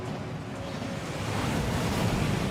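A waterfall rushes inside a Gringotts vault in the Hogwarts Legacy video game, giving a steady, dense roar of falling water that swells slightly louder toward the end, with no voices.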